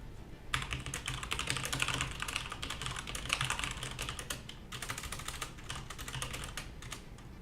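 Steady, rapid typing on a computer keyboard, with dense clattering keystrokes running almost continuously at close range, pausing briefly midway before resuming; no one speaks.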